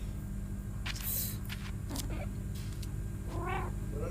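A cat in the game I Am Cat gives a few short meows and cries over a steady background hum, faint and spaced apart.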